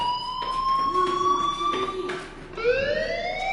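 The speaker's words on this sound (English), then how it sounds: "Hey, do you hear that fire alarm?" Fire alarm in the video game Life is Strange, a loud electronic wailing tone that steps in pitch, breaks off and then sweeps back up in repeating cycles.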